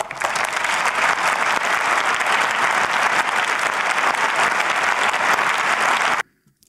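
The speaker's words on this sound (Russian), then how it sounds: "Ну вот почти на каждый какой-то тезис хлопают" Sustained applause fills the German Bundestag chamber, dense steady clapping from many members for about six seconds before cutting off abruptly.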